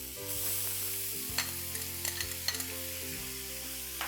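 Ginger garlic sautés in a pan for a dhaba-style tawa chicken fry, a soft steady sizzle with a few light spoon taps and scrapes midway, quiet and close with no speech.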